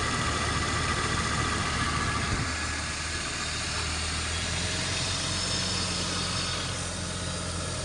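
A BMW E39 engine idling smoothly without vibration after a valve cover gasket repair, at close range, an even continuous hum without speech.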